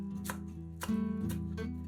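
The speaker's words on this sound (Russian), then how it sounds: "Пучок петрушки мелко нарезаем ножом." A few quick knife chops through a bunch of parsley tap against a board up close, spaced unevenly over a low background hum.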